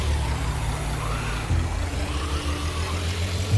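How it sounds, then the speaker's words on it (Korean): Car engine in a zombie survival video game, a steady mid-level rumble and hum running throughout with slight shifts in pitch, close and continuous. "차 소리가 좀 나긴 해."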